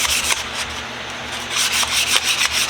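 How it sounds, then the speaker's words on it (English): Steady close scratching of 600-grit sandpaper worked by hand over a tool, with repeated back-and-forth strokes in an even rhythm and no voices. "I'm gonna give this a quick sand."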